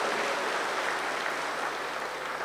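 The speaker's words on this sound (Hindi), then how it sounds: "अब ताली बजाओ" Audience clapping at a spiritual gathering, a dense, steady wash of applause sustained evenly across the whole moment.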